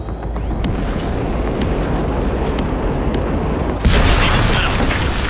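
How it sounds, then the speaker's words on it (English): A massive gate is blown open in Cyberpunk 2077, with a low rumbling drone and scattered clanks building until a loud, sudden explosive blast bursts out near the end and roars on. "there's a monster gate that needs to be blown open"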